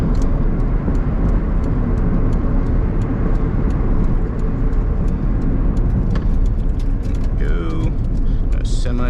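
A 1991 Honda CRX HF with a newly built engine, still within its first 50 miles, hums steadily from inside the cabin as it drives along, with constant road rumble and occasional faint clicks and ticks.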